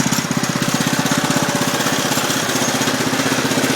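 An old Cub engine idles steadily after a cold start, a fast, even low chugging with a slightly rough, shaky beat, loud and close with no voices.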